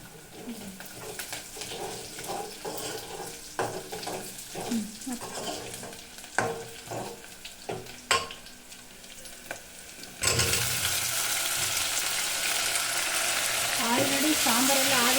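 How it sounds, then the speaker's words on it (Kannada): Onions frying in a pan until browned for mushroom sambar, with faint sizzling and scattered stirring clicks. A much louder, steady sizzle takes over partway through, and quiet voices are heard early on. "ಚೆನ್ನಾಗಿ ಫ್ರೈ ಮಾಡ್ಕೊಬೇಕು ಈರುಳ್ಳಿ ಸ್ವಲ್ಪ ಬ್ರೌನ್ ಬರೋವರೆಗೂ"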